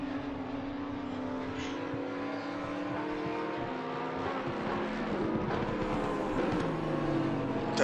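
Race cars lapping Watkins Glen in the racing game Assetto Corsa Competizione, with several engines whining and shifting pitch as they rise and fall together in a steady, droning pack.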